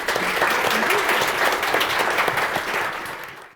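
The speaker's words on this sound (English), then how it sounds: "Let's give them a big round of applause." A conference audience applauds the panelists at the close of a panel session, a dense burst of clapping that carries steadily for a few seconds before cutting off abruptly.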